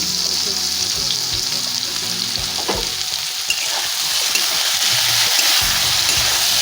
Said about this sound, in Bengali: আমি ভালো করে নেড়ে ফেলে নেবো মশলাগুলো দিয়ে